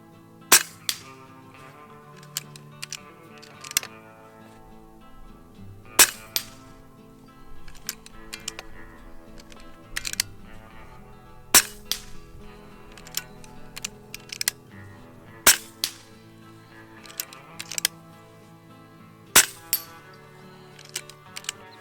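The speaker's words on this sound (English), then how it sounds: "We're going to send some pellets down range on that reactive target and have a little fun." Air rifle shooting pellets at a reactive target on an outdoor range, sharp cracks every few seconds, each followed by a faint ringing hit, with background ambience between shots.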